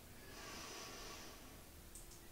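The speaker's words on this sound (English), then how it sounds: "Breathing in" A slow, deep inhalation during a prenatal and postnatal stretching and relaxation session, taken while holding a front lunge. It is a soft, steady breath that stays quiet and close, with no talking over it.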